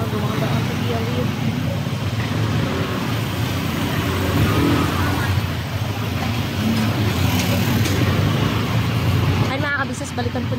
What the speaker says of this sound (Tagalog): Traffic pa rin.